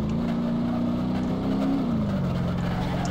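A BMW M3 engine drones steadily in the BeamNG driving game as the car drifts, loud and continuous, its pitch rising slightly and then easing down.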